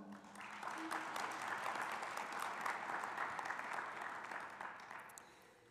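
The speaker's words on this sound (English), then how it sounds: "We should give them a round of applause." A commencement crowd at a community college graduation applauds a brass quartet, a sustained wave of clapping from many hands that holds steady, then tapers off toward the end.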